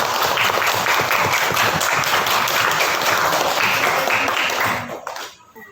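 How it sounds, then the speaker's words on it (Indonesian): Classroom applause for a classmate named Angel: a dense, continuous clatter of many hands clapping, loud and close, holding steady before fading out over the last second. "kasih aplaus untuk teman kita"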